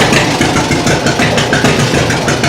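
An old John Deere tractor engine running loud and close, a dense, steady rumbling throb with even low pulsing and no breaks.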